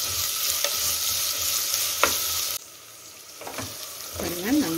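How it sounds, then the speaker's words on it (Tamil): Vegetables for veg kurma sizzle steadily in a pan while being stirred, with occasional scraping strokes. The frying drops quieter midway, and a faint voice rises near the end. "இது கொஞ்சம் நல்லா வதங்கட்டும்."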